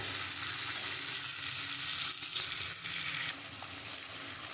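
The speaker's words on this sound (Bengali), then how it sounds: "আমি এইটা দিয়ে একটুখানি কষাবো আলুটা।" Fried potatoes being cooked with mutton in a pan make a loud, steady sizzle throughout, with brief dips as the pieces are stirred and no voices.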